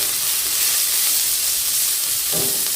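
Egg rice sautéing in a pan makes a brief, loud, continuous hissing sizzle with a light scrape near the end.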